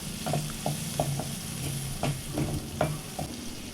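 Finely chopped onion fries in oil in a pan with a close, steady sizzle, punctuated by a series of clicking strokes from stirring.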